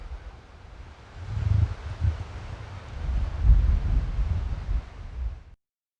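Strong wind blows across an open field on higher ground, buffeting the microphone with low rumbling gusts that swell and ease over several seconds, loud and close, with no voices.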